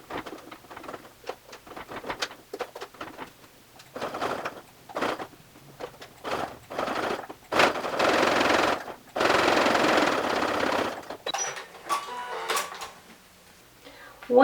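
A sewing machine runs a line of stitching across the top of a fabric waist bag in bursts of rapid mechanical whirring, pausing and restarting, with one longer sustained run near the middle.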